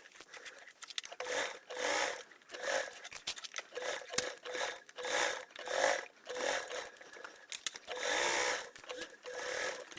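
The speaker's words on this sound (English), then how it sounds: "So we're just basting, so it's just with a basting stitch" A sewing machine runs a basting stitch with a 1/8 seam allowance on a hanging toiletry bag, in short repeated bursts of stitching separated by brief pauses, close and steady.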